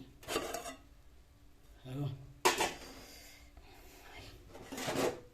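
A utensil stirs and scrapes in a cooking pot of Telangana-style uppudu pindi, in a few separate bursts of mixing with quiet gaps and some soft talk between them.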